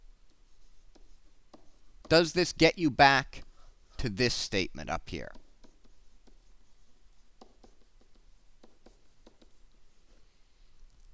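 A pen scratches faintly across scrap paper while a derivative is worked out to check an integral, the soft strokes sitting under and around a short spoken question.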